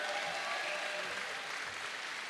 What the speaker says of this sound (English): Big round of applause for Starlett